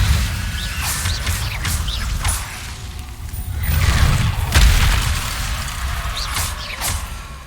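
In Hogwarts Legacy, the Incendio fire spell is cast again and again, making repeated whooshing bursts and booming flares of flame over a rumbling game soundscape, with no speech.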